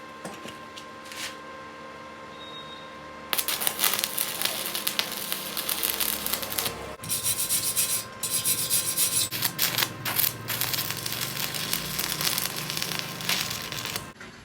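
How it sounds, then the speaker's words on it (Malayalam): Wire brush scrubbing a freshly welded steel joint, a harsh raspy rubbing that starts after a quiet opening and continues in repeated close strokes, fairly soft overall. "അതേപോലെ തന്നെ വയർ ബ്രഷ് കൊണ്ട് ഒന്ന് ഇങ്ങനെ ചെയ്ത് കഴിഞ്ഞാൽ അറിയാൻ പറ്റും"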